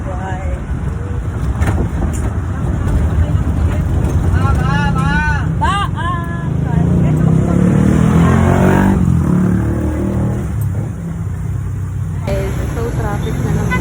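A car is driven fast along a road, with a steady rushing roar of engine and wind throughout and a few brief chirping tones in the middle; people talk over it.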